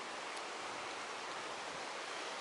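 A stream flows at the bottom of a cliff, giving a steady broadband rush of water that stays even and unbroken throughout, with no voices.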